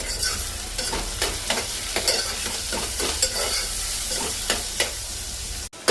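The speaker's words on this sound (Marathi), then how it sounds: "आता आपण टाकूया टोमॅटो आणि ते जे मसाले घेतले तिखट, मीठ, हळद मिक्स करूया" Tomatoes with chilli powder, salt and turmeric go into frying onions in a pan, a steady sizzle broken by repeated rhythmic scraping strokes of a spoon, close and fairly loud, ending in a brief knock.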